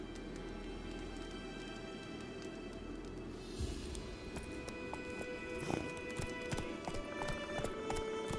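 Hooves of a horse in the video game The Witcher 3: Wild Hunt clip-clop steadily through a soft background hiss, the rhythmic knocks becoming clearer partway through alongside a faint whinny-like tone.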